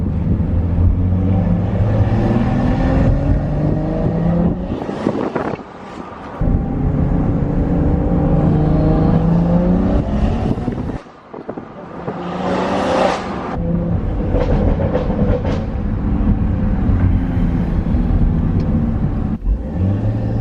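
A tuned BMW M240i with a B58 engine at Stage 2+ accelerates hard, its loud engine rising through the revs, briefly dropping off at gear changes around five and eleven seconds, then pulling strongly again.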